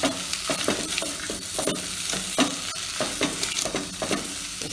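Vegetables for pulao cook in a pan over a medium-to-high flame, a constant sizzle broken by regular scraping stirs about every half second, close and fairly loud, with no talking.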